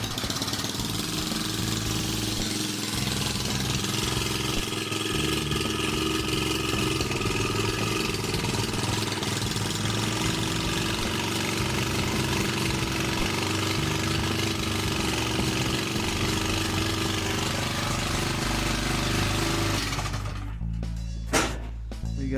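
A small motor on a home-built motorized bicycle with a straight exhaust runs steadily, a buzzing mid-pitched drone that holds for a long stretch before sputtering and cutting off near the end.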